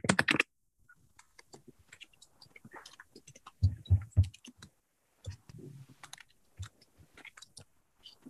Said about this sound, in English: Maybe I'll type an answer.